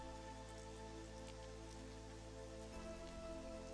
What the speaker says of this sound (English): Tiny droplets of cold rain began to fall upon the roof of the old bus shelter.